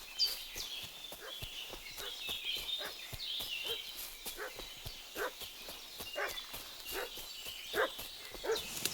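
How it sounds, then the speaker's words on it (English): A dog barks repeatedly in Kingdom Come: Deliverance II, a steady run of short, fairly distant barks over faint outdoor ambience with clopping hooves mixed in. "What's that dog making such a fuss about?"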